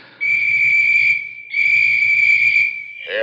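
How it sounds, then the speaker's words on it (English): Two long, steady high-pitched whistles with a brief break between them, loud and close, with faint low rumbling underneath. "Hear the whistles, Delaney?"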